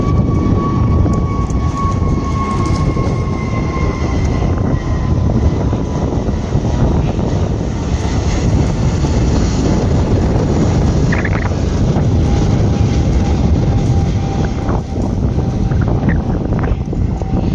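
An airplane taking off and turning overhead near a coastal creek, a loud broadband jet roar with heavy wind buffeting the microphone, sustained throughout.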